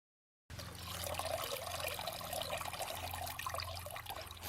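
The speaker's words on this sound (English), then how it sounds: "Pour approximately 3 to 4 liters of water at the bottom of the hole" Water pours into the bottom of a planting hole dug for a gerbera: a quiet, steady trickle and splash that starts after a brief silence and runs continuously with slight gurgling variations.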